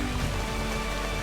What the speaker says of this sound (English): The rain's starting to pour.